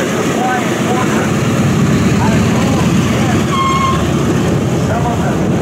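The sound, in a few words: B-17 Flying Fortress taxiing at air show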